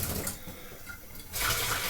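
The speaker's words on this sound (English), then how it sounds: "ran that bath water" Bath water running from a tap fills a tub with a steady broadband rush, softer at first and then swelling louder and fuller partway through as the flow strengthens, with no voices present.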